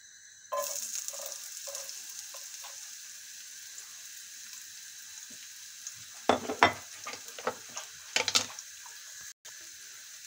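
Finely chopped onion fries in a splash of sunflower oil in a wok, a steady sizzle with clattering stirring bursts in the latter half, close and loud with no talk.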